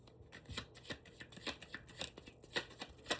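Tarot cards are shuffled by hand in a quiet room: a soft, rhythmic series of papery flicks and slaps, close and faint, with no talking.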